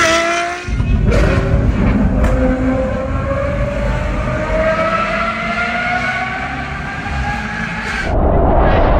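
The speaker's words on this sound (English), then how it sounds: "That Ferrari is the craziest thing I've ever heard." Ferrari sports car on a mountain pass road, a loud sustained engine roar with a long rising pitch as it accelerates, close and powerful, cutting off briefly before revving again.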